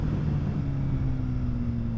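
A motorcycle engine downshifts while riding, a close, steady low rumble with a sustained drone and heavy wind noise throughout, no voices.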